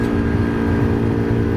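A 50cc moped engine drones steadily and close up while the rider commutes through France, a continuous low hum that holds an even pitch throughout with no talking.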